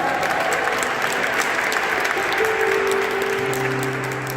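A church audience claps and cheers for a sermon, a dense, continuous burst of applause that holds at full strength throughout, with a few voices calling out near the end.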